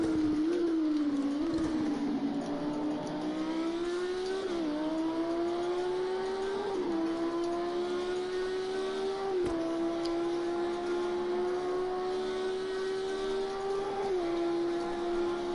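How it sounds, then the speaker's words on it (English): A race car at Fuji Speedway screams past at high revs, a loud steady whine climbing through gears with brief dips at each shift over about fifteen seconds, heard from trackside with no voices. "The car still sounds good."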